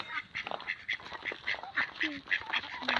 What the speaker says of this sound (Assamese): এইদৰে ৰাস্তাৰ কাষতে চৰি থকা হাঁহবিলাকৰ পেক পেক পুক পুক মাত শুনিবলৈ পালোঁ।